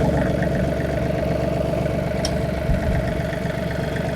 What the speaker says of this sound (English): So we'll start the tractor up.